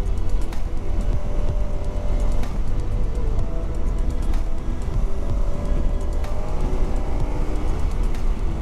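A KTM 1290 Super Adventure S motorcycle accelerates hard on an open A-road in fourth gear, its loud engine roaring steadily for the whole stretch with a rising whine over heavy wind rush and no voices.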